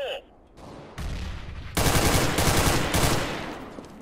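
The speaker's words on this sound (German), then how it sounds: "Da knallt ganz schön viel auf B." Rapid bursts of automatic gunfire from a CS:GO match on the Cache map, with a loud, dense barrage of overlapping shots and explosions building after a quieter opening and continuing to the end.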